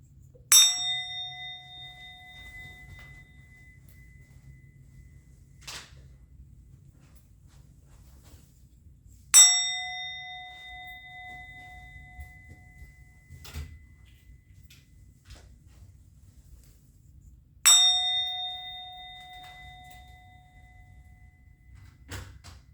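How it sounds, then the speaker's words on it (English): A resonant bell struck three times at slow, even intervals, each strike ringing out clearly and decaying over several seconds in a quiet room, with faint soft knocks in between. "I'm going to ring the bell."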